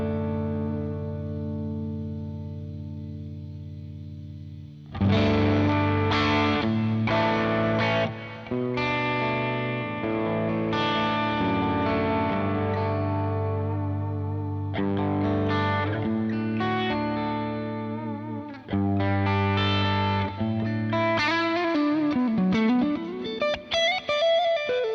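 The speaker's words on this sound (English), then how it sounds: "Just really enjoyable dual amp tones." A Strat electric guitar runs through a dual Dumble amp preset, playing chords and melodic phrases with a warm, slightly driven tone, chorus shimmer and reverb tails, loud and close after a sustained opening note, with a bend near the end.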